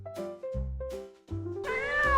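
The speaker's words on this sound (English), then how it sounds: "Hamster Chef shares the cake with a yellow and white stray kitten." A yellow and white stray kitten meows several times in quick succession, clear and close, the high calls rising and falling with brief gaps between them.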